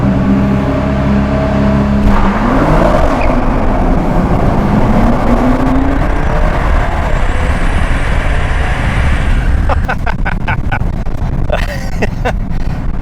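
A 2013 Nissan GT-R Black Edition with 545 horsepower launches hard from a standstill, its engine rising in a loud, continuous climbing roar with shifts, heard from inside the car with brief excited voices.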